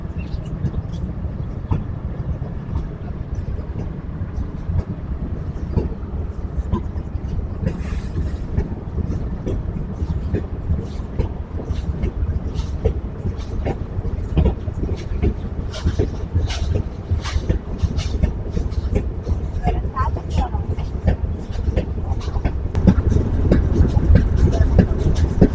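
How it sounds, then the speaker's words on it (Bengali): Ruposhi Bangla Express passenger train on the outskirts of Narail station, rolling steadily along the rails through a long curve with a continuous low rumble and faint wheel clicks that grow louder toward the end. "নড়াইল স্টেশনের আউটারে কিন্তু আমাদের ট্রেন বিশাল বড় একটা কার্ভ নিয়ে নিল"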